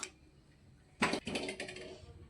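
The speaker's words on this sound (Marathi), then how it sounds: "अशा प्रकारे बारीक करून घ्या" Ginger and coriander masala is ground fine while making egg curry: a quiet lull, then a loud whirring, rattling burst kicks in and keeps churning through the final second.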